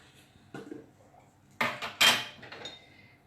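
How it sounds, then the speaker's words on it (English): A cooking pot set down on a kitchen surface while rice is prepared with clarified butter during live cooking in Abu Dhabi: three short, close clunks and clatters, the last two loudest, over quiet room tone. "I'm going to place the pot here"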